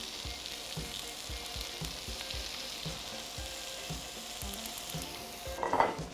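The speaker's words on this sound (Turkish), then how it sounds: "pirzolarımı da şöyle çeviriyorum" Lamb chops sizzle in a pan with a continuous hiss while a utensil turns them, leaving soft rhythmic knocks underneath and a louder clatter near the end.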